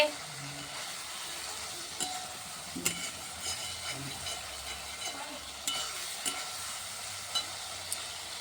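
Spices sizzle and fry in a pan on a gas stove, with a quiet steady crackle and occasional soft scrapes and knocks of a stirring spoon, close by and without talk.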